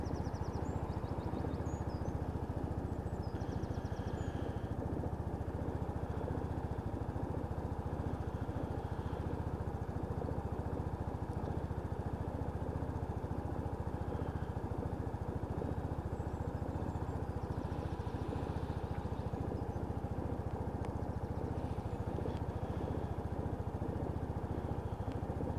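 A Lexmoto Titan motorcycle, just repaired, idles at just over 1,000 RPM in an unbroken, close, even drone with a fine rapid pulse that runs steady throughout.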